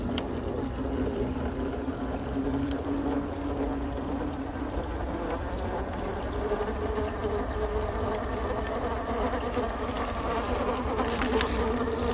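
Small RC crawler fitted with a Hobbywing Fusion Pro 2300kv brushless motor, crawling slowly up an obstacle, giving a steady thin electric whine with gear buzz that holds fairly constant throughout, with no talking.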